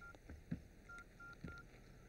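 Telephone keypad tones sound as a number is dialed, a handful of short, faint beeps spaced irregularly over quiet background.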